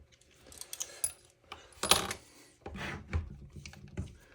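Metal parts of a DIY camera L bracket and mic cage hand rig being tightened, a series of close clicks, ratchety scrapes and rattles in short bursts with pauses between.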